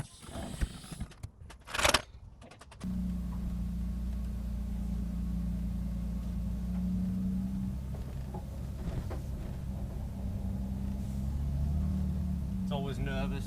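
A Volvo 940 on a first drive after a differential and drive shaft replacement: a steady, loud engine and drivetrain drone, heard from inside the car. It follows a few seconds of handling noise.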